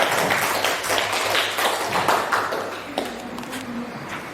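A classroom of students claps together in a sustained burst of applause, dense and steady, filling the room before tapering off slightly toward the end.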